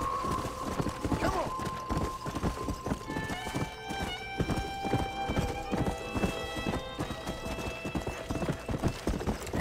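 Hooves clop in a brisk, even rhythm from a horse ridden in Red Dead Redemption, loud and near, with a neigh mixed in and background game music.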